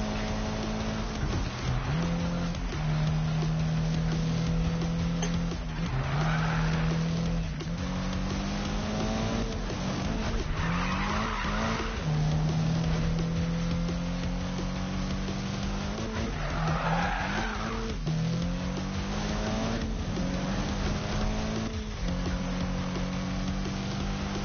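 A car drifting in a Need for Speed race, its engine droning steadily while tires squeal in repeated long skids, loud and close throughout with shifting engine pitch between slides.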